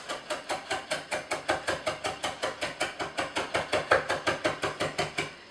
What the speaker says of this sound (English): I'm going to use an up and down chopping motion while pivoting around the point of the knife like this